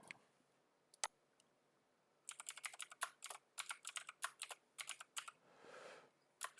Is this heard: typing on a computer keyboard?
yes